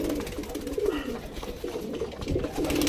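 Domestic pigeons, kept as a backyard flock of homing and flying breeds, coo steadily in low, rolling murmurs that overlap close by for the full stretch, with no talking.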